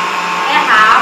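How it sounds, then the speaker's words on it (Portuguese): An electric mixer beats an Oreo mousse mixture with a loud, steady, close whir that rises slightly in pitch toward the end. "Bom, vou bater agora aqui a minha mistura."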